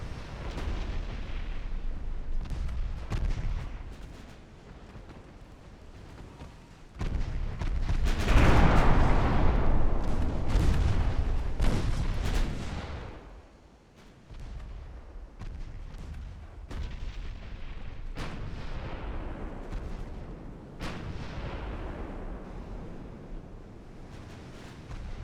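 Battleship main guns firing in the naval game Ultimate Admiral Dreadnoughts, set in 1904: heavy booming salvos roll out over a constant wash of sea and wind, swelling into a loud, sustained barrage before easing back.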